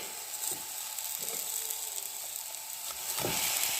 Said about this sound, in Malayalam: ഇനി നമുക്ക് ഈ അരച്ചെടുത്തിട്ടുള്ള ബീട്രൂട്ട് ഈ ഒരു പാത്രത്തിലേക്ക് ഇട്ട് കൊടുക്കാം